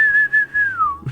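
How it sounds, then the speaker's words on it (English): A single sustained whistled tone holds steady and then slides downward near the end, clear and alone with no talking. "A whistle follows back up the hole."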